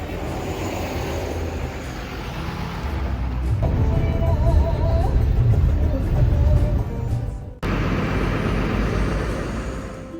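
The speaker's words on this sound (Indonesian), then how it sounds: "Dari Terminal Mojokerto kali ini kita naik bus Sugeng Rahayu" Passenger-side ride on a Sugeng Rahayu intercity bus out of Mojokerto Terminal, a steady loud engine drone and road rumble that swells midway, with a brief cutoff before the hum resumes.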